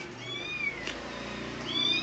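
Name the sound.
cat meowing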